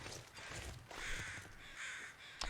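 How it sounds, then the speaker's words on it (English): Several crows caw in the snowy wilderness of the survival game The Long Dark, harsh repeated calls at moderate distance with a soft ambient wind bed beneath and one sharp click near the end. "Why do I hear crows?"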